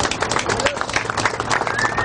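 A gathered crowd at a campaign headquarters claps for speakers, brisk, close applause lasting about two seconds with a few voices mixed in.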